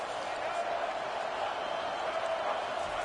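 Steady stadium crowd roar from the NCAA 25 college football video game, a continuous, broad wash of distant fans at a college game with South Carolina playing, constant and unbroken.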